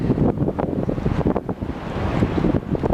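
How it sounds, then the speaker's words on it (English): Strong wind buffets the microphone continuously, a loud rumbling roar with gusty swells throughout and no speech. "it's windy out here"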